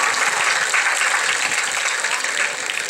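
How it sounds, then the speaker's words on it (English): A graduation audience claps for the class advisors, a loud, continuous wash of applause from a sizable crowd over a few seconds. "So can you please give a round of applause."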